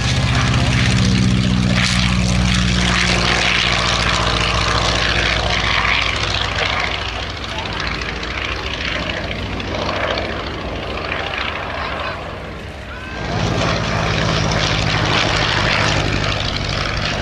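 Avro Tutor biplane with its propeller-driven engine running, a steady loud drone throughout with a slight dip partway through, likely a 1930s Central Flying School trainer.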